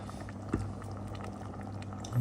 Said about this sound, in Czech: Vidíte, už se to vaří